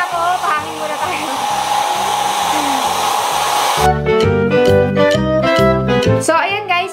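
A JMW Professional hair dryer blows cold air with a steady, loud whoosh, and music joins partway through.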